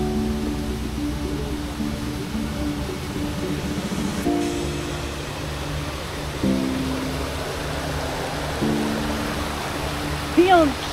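A waterfall in northern Bali roars as a constant broadband rush, with a person talking over it and a few brief tonal sounds near the end.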